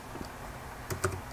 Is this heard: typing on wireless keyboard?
yes